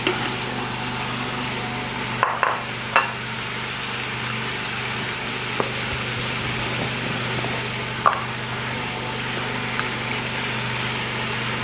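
Green chillies, large and small, go into a hot pan for Peshawari namkeen gosht and sizzle with a steady low hiss, marked by a few sharp clinks and scrapes near the start and later.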